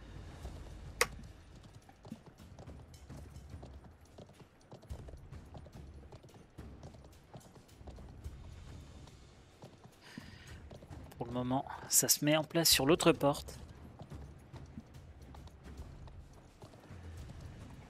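Cavalry horses' hooves clip-clop through a medieval siege battle in a video game, with steady muffled hoof beats under continuous talk and a brief loud mechanical clatter midway.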